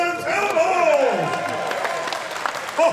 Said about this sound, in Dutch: Een grote applaus voor de winnaar.